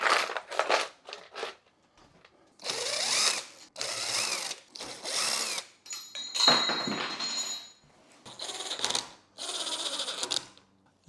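A power drill spins off the nuts on a Varla Eagle One Pro electric scooter, several close, loud whirring bursts separated by short pauses.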